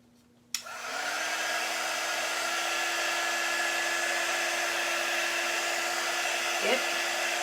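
A hair dryer switches on with a click and then blows steadily at close range to dry a paper craft cut-out, a loud, even whir with a constant motor tone and a brief shift near the end.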